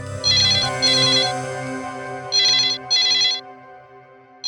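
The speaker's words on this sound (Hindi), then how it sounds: "शायद किडनैपर का फोन होगा। नीलेश, फोन उठाओ" A telephone rings in a tense crime-drama scene, two pairs of bright electronic ring bursts separated by a pause, loud and close over a low background music bed.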